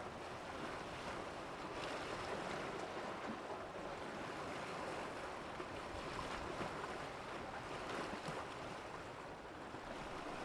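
Ocean surf washes in steadily and continuously, a soft broad wash of breaking waves with wind noise across the microphone, no voices.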